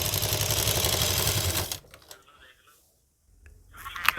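A sewing machine runs fast and loud up close while stitching salwar fabric, then stops abruptly partway through, followed by quiet handling sounds and a faint clatter.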